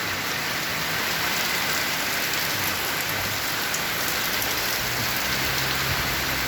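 Heavy rain pours down constantly, a loud, dense hiss of drops hitting surfaces without letup.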